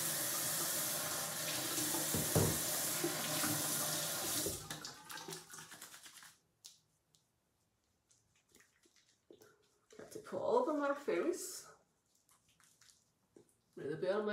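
Tap water runs steadily into a bathroom sink for several seconds during a face-washing skin care routine, then cuts off, leaving a quiet room and a few soft handling noises.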